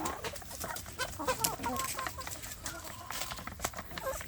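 Free-range village chickens cluck and chatter close by, a busy scatter of short calls with faint background voices.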